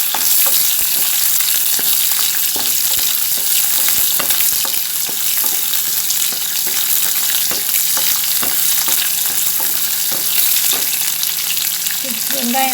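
Chana dal, curry leaves, ginger and green chilli frying in oil in a pan, with a steady loud sizzle broken by frequent scrapes and taps of a stirring spoon throughout, and no talking.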